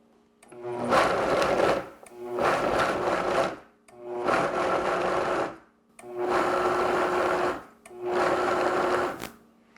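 A Vitamix blender runs in five separate bursts of roughly two seconds each, with short silent gaps between them. Each burst is a loud, steady whirring roar that ramps up and then cuts off.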